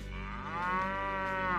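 Cattle moo in the medieval game Brytenwalda, a Warband mod: one long, loud, drawn-out bellow rising in pitch, with a faint rumbling background and no talk.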